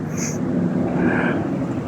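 Steady wind blowing past a microphone beside a busy road where food is being eaten outdoors, a continuous broadband rush with no gaps and no talking.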